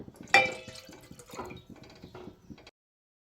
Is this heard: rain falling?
no